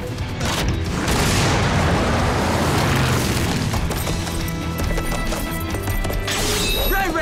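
War horses gallop in a loud, dense rush of hooves, blended with booming crashes and scattered whinnies in a cavalry charge that fills the whole stretch without speech.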